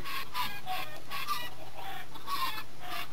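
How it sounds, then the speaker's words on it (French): Chickens in the Minecraft video game cluck in a steady, repeating pattern of short bursts, close and clear, with no talking over them. "les poules vont rester dans l'eau, comme ceci"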